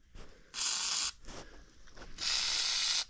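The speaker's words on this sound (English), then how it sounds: "Let's just spray it up a little." Two bursts of aerosol lubricant sprayed onto the chain and gears of a Mongoose mountain bike, each a steady close hiss about half a second to a second long, separated by faint handling noises.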